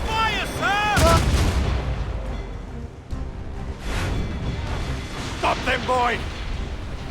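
Broadside cannon fire from a naval battle in Assassin's Creed Rogue: a loud cluster of booming shots early on and a second burst later, under shouted crew voices and swelling orchestral music.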